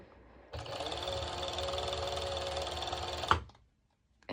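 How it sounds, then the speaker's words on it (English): A serger overlock machine stitches knit fabric in one fast, continuous whirring run of about three seconds, close and loud, then stops abruptly and falls silent. "I'm going to serge it"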